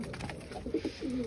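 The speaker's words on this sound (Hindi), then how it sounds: "कबूतर भी रखे हैं, देख ले यहाँ पर ऊपर कबूतर बैठे हैं" Pigeons perched up high on a farm in rural India give soft, low cooing calls, a few short throaty phrases close by over steady background noise.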